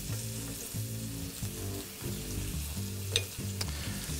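Butter sizzling in a pan with halibut, seasoned with salt and pepper, a quiet, steady fry under a low background hum, with one small pop partway through.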